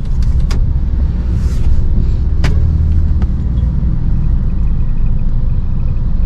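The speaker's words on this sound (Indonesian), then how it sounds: "Untuk kegedapan suara mobil ini lumayan oke ya" Steady low road rumble inside a 2010 Honda Jazz RS hatchback while driving, a constant dense hum with a few faint clicks and rattles near the start and no talk.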